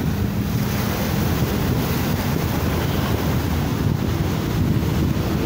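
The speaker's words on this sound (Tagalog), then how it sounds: "Lakas ng alon guys" Strong waves break along the Manila Bay shoreline in a continuous loud roar of surf, with heavy wind buffeting the microphone and no voices.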